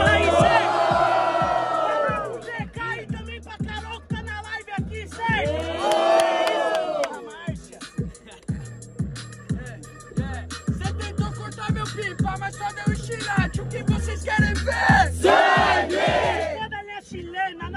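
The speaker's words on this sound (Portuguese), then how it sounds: "Cê é louco, barulho pra Sabrina aí nessa porra aí, certo?" A crowd at an outdoor rap battle at Praça dos Estudantes cheers and shouts loudly, with whoops and bellowing voices rising in bursts, then a steady beat with voices over it.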